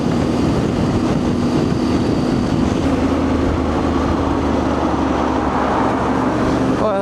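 Yamaha Tenere 700 with its CP2 engine cruising along a motorway, a steady loud roar of engine, wind and road noise that holds constant throughout with no talk.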